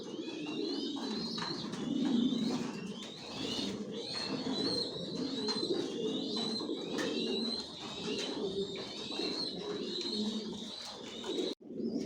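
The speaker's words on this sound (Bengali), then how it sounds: "সব একই লাইনের কবুতর পালি" Racing pigeons of the Janssen long line cooing steadily in a loft, a dense, continuous chorus of soft throaty coos close by with occasional brief chirps, no talk over it.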